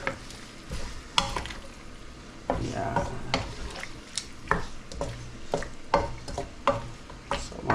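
Chicken pieces sizzle and brown in a hot pan for Bacolod-style tinola, with a constant frying hiss and repeated scraping and stirring strokes of a utensil against the pan.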